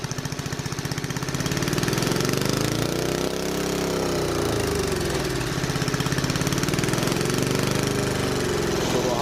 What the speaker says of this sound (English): see if you can hear when the hydrogen engine takes over